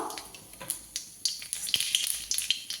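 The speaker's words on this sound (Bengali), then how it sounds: "এই বড়ি ভাজা তেলের মধ্যে একটা গোটা শুকনো লঙ্কা আর একটু কালো জিরে ফোড়ন দেবো।" Dried red chilli and black cumin seeds sizzling as a tempering in hot oil left from frying lentil dumplings, crackling and spitting close by in a steady hiss with sharp pops.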